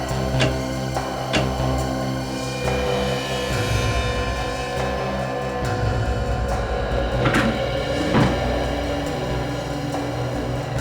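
A wooden wardrobe concealing a hidden door is opened and shifted indoors, with several sharp knocks and bumps over a steady low rumble and scraping movement.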